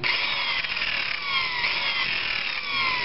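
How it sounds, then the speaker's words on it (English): A disc sander fitted with coarse 40 grit paper grinds against the leading edge of a model aircraft wing, a steady close whirring abrasion with slight rises and dips as the part is touched lightly against it. "if you're going to put 40 grit sandpaper on your disc sander, be careful what you wish for"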